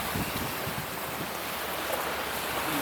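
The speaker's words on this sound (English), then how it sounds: "This is the beach front." Waves rolling in at the beach front of a campground in Seward, Alaska, a constant close surf wash mixed with wind noise across the microphone, with no one speaking.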